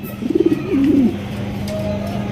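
A large Sirazi pigeon, a male in a seller's flock, gives a close, clear throaty coo with a quick pulsing start and a gliding drawn-out call, followed by a low steady hum.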